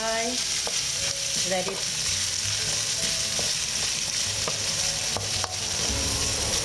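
Sliced garlic stir-frying in a pan for a chicken curry, a dense continuous sizzle with scraping stirs, close and loud, with a brief voice over it.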